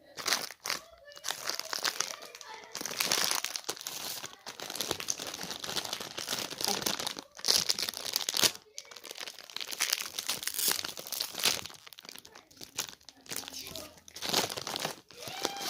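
Plastic packaging is crinkled and torn open by hand, a busy close rustling and crackling that goes on steadily for many seconds while someone talks over it.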